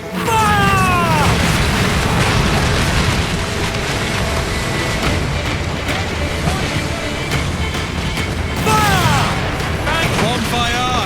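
Ship cannons firing in Assassin's Creed Black Flag, deep booms rolling over a steady roar of sea and wind, with shouting voices heard over the broadside.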